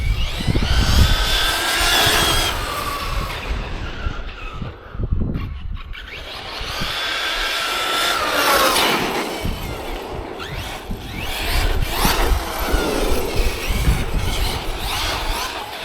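A Hobao SSTE 4S RC truggy speeding past outdoors, its motor whining and tires rushing as it surges loud, fades briefly, then roars back close in repeated passes without any voices.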